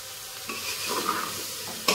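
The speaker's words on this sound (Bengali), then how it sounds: "আর একটু ভালো করে নাড়িয়ে নেব" Bottle gourd dal being stirred in a pot over heat, a soft sizzling hiss with a few scraping strokes, close and brief, with no talk.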